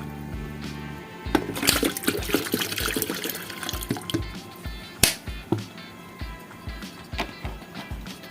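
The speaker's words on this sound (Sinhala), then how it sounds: "මේකට වතුර ටිකක් දාගෙන අපි බලමු" Water splashes and trickles into an electric kettle under repair, arriving in uneven, clattering bursts for several seconds, close up and moderately loud.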